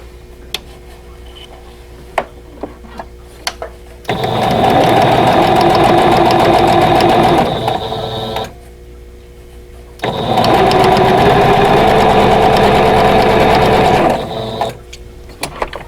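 A sewing machine runs in two long, steady stitching bursts along a seam of a Snail's Trail vintage quilt block, loud and close, with quiet fabric handling between runs.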